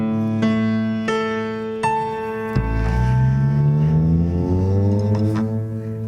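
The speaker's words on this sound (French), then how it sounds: "Accordage." Jazz musicians tune their instruments at an outdoor festival, sustained harmonic tones held and shifted in pitch, with a few sharp plucked or struck attacks marking each new note, clear and close.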